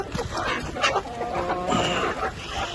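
Chickens clucking close by on a small farm in light autumn rain, a busy, overlapping chorus of fowl sounds over a noisy background.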